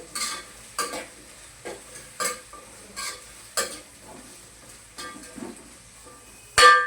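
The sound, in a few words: stirring salt into vegetables for veg fried rice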